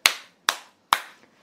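Three sharp, close hand claps at an even pace, delivered right in someone's face inside the Big Brother house, each ringing out alone with short gaps.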